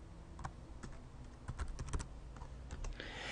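Someone types a function name into an Excel spreadsheet on a computer keyboard, producing a quiet, irregular patter of individual key clicks with a brief burst of quicker strokes near the end.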